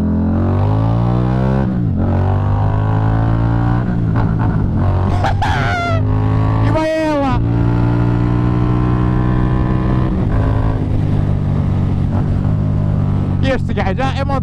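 A small Indian chopper motorcycle engine runs close and loud, a throbbing idle broken by several sharp revving bursts that rise and fall in pitch.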